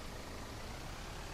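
Steady low engine drone from a driven vehicle in a night-time video game, holding even and fairly quiet without clear rises in pitch.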